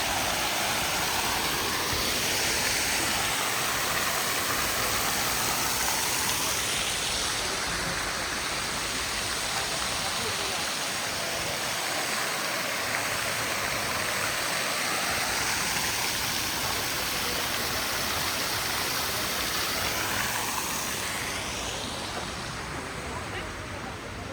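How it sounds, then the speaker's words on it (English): Splashing city water feature in Gdansk, Poland, during St. Dominic's Fair: a constant loud rush of falling water that fills the scene, with faint crowd voices beneath. "They have a lot of water features in this city too."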